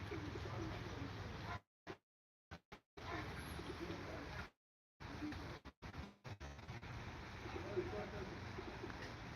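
Soft pigeon coos sound faintly against a steady outdoor background at Machhodari Devi temple in Ambad, broken by a few brief dropouts.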